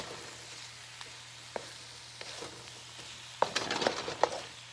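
A steak sits in a hot pan with a low background frying hiss and a few scattered pops and ticks, growing into a brief burst of louder sizzling near the end, with no voice.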